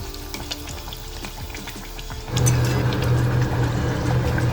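Toor dal kachori shallow-frying in oil, with oil drizzled over it as it browns on one side, gives a steady close sizzle that swells louder and thicker partway through and carries on with no talking.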